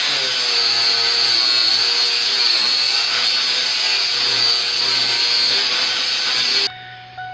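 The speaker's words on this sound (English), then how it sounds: "I'll put a video of me grinding on this thing from earlier." A power grinder works Evercoat body filler on a 2000 Ford F150, giving a loud, close, continuous high-pitched whir that cuts off abruptly near the end.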